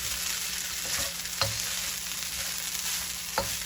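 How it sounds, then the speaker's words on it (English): Turmeric rice sizzles and fries steadily in a hot pan while a utensil stirs it, with a few sharp scraping knocks standing out over the constant close crackle. "Let's go ahead and stir."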